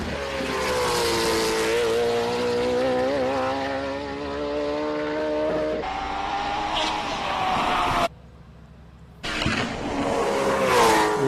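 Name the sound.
race car accelerating at SIMOLA hill climb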